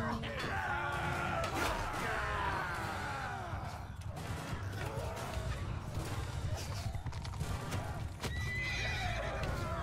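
Horses whinny repeatedly with steady clip-clopping hooves in a chaotic medieval battle in Bannerlord with the Realm of Thrones mod, dense and continuous, with faint crowd noise and clashing beneath.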